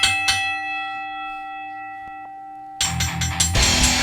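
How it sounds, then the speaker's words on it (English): Bell ringing on a wrestling podcast, a single sharp clang then a long fading ring, followed by a burst of loud noise near the end. "You want to ring the bell? Let's ring the bell."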